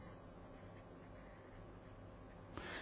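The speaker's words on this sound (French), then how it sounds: "ici je vais écrire t" Chalk or marker strokes on a board as a French maths lecturer writes out a differential equation, a faint continuous scratching over room hum that ends with a brief louder scrape.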